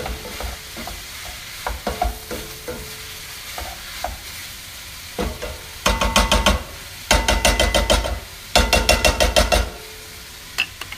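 Turkey chili is stirred in an all-purpose pot, bursts of rapid rhythmic scraping and clattering alternating with quieter pauses over a low simmering background, loud and close.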